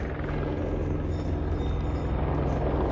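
A rescue helicopter near Everest Base Camp produces a steady, low rotor drone with a constant hum, moderately distant and unbroken throughout.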